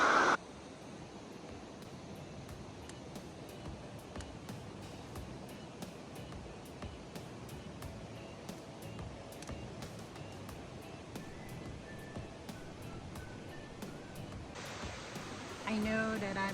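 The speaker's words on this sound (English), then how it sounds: "right beside me is this beautiful falls that turned into a stream" A waterfall spills into a stream with a steady, broadband rush of water that stays even and close throughout, joined by faint ticks and a louder burst near the end.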